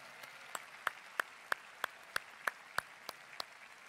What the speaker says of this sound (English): Let's give them a great big hand clap.